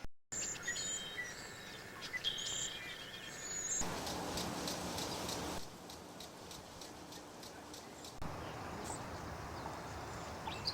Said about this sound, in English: Cedar waxwing.